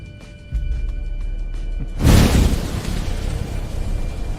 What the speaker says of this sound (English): Shotguns.